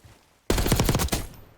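A loud, rapid burst of automatic gunfire in the Black Ops 6 video game, about a second of tightly spaced shots that cuts off abruptly.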